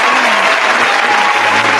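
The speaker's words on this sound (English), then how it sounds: "Let's clap it up." An audience claps during a talk-show gathering, a brief, loud burst of dense applause with a little crowd noise mixed in, filling the whole moment without a break.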